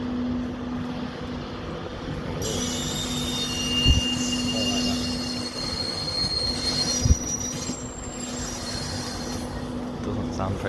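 Class 91 electric locomotive train rolling past at Doncaster station, wheels squealing in a steady high-pitched whine with a constant low hum and a couple of sharp clanks, close and continuous throughout.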